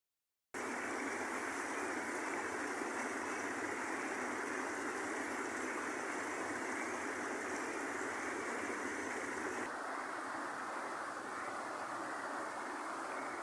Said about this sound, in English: Right, so I'm back at the river.